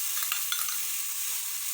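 Crushed ginger, garlic and green chili paste hits hot oil and sizzles steadily, a soft continuous frying hiss with faint stirring scrapes and no voices.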